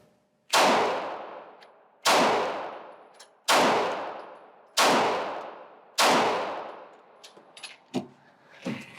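A Glock Gen 5 pistol fired at a 25-yard target: five loud, sharp shots spaced roughly 1.5 seconds apart, each with a ringing decay, followed by fainter clicks and clatter.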